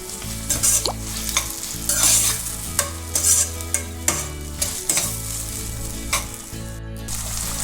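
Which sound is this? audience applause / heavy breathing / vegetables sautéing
vegetables sautéing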